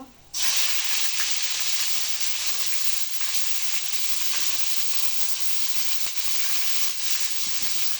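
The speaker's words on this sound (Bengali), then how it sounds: "এখন এগুলো ভালো করে লাল লাল করে ভেজে নেব" Onions and green chillies sizzle and fry steadily in hot oil in a home kitchen, a loud continuous hiss with faint crackles, heard alone without talk.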